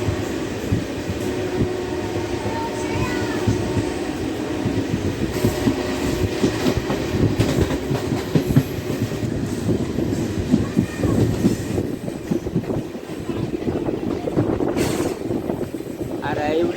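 A DEMU passenger train on the Kacheguda to Raichur line runs steadily along the rails with a constant rumble and rhythmic wheel clatter, close and continuous, with faint voices now and then underneath.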